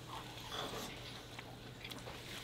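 Someone bites into and chews a crunchy roast beef sandwich with caramelized onions, American cheese and mushrooms on buttery toasted bread. Faint, irregular crunches and chewing sounds rise from a steady background hiss, with no talking.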